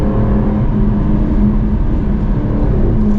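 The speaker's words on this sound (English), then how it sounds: "It does like little gargles out of the exhaust." A 2021 Jaguar F-Type R exhaust burbles and gargles as the throttle is lifted, a steady, close, low rumble with rough crackling texture that carries on without pause and with no talking.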